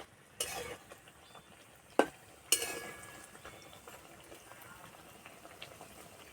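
Nimki dough pastries frying slowly in hot oil over low heat, a soft, steady, quiet sizzle broken by a few sharp clicks and taps near the start.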